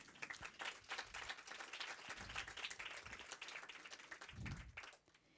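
A lecture audience at UNAM applauds steadily for several seconds, dense clapping that swells near the end before quickly dying away.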